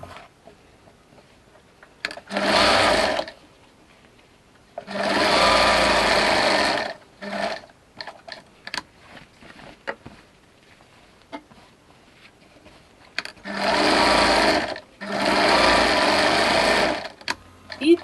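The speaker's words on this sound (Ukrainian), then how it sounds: "І пришиваю точно таким же методом." Sewing machine stitching patchwork fabric remnants for a rug, running in four loud bursts of a few seconds each with short pauses of handling and quiet between them.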